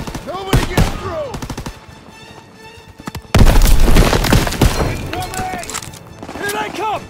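Loud machine gun bursts and rifle fire from the World War II shooter Call of Duty: WW2, rapid rattling volleys with a heavy boom partway through, over battle shouting.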